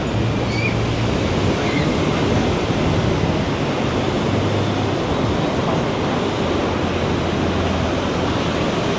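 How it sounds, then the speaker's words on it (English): Strong ocean surf at Da Nang beach gives a steady, loud, unbroken roar of crashing waves, close and continuous throughout. "the waves are quite strong today"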